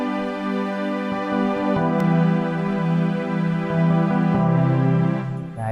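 Sustained piano and orchestral chords from an FL Studio patch ring out alone, with slow chord changes every second or so and a soft swell near the end.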